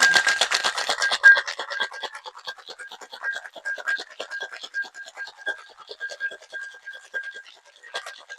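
Cocktail shaker tin packed with ice is shaken hard and fast, giving a rapid rattling clatter that starts loud and fades to a steadier, lighter shuffle, close by without talk.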